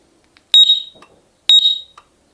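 A Datatool System 3 security alarm gives two sharp, loud, high-pitched chirps about a second apart, each ringing briefly before cutting off, with quiet pauses between them.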